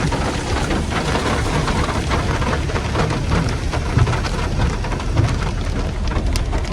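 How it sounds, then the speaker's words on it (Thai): Heavy rain pours steadily with a low rumble of thunder underneath, dense and close throughout with no talking, on a road in Kuchinarai district, Kalasin province, Thailand. "ฝนตกพอดีครับ"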